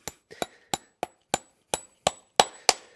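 Horseshoe nails tapped into a hoof with a hammer: about ten light, sharp metallic taps at a steady pace, close and clear, with no talking.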